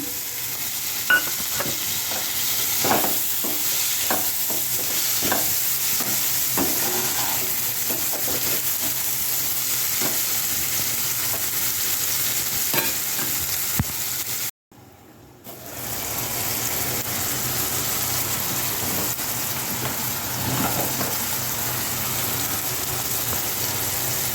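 Four chopped tomatoes frying in a pan with curry leaves, stirred often, giving a steady close sizzle with scraping clinks throughout and a brief drop to near silence about two-thirds of the way in.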